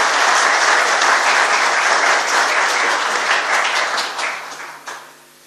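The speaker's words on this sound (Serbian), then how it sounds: "Molim vas jedan aplauz za zaborav." Audience applause at a memorial tribute event, a dense, loud burst of clapping that holds steady and then thins out and fades over the last second.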